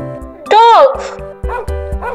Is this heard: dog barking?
yes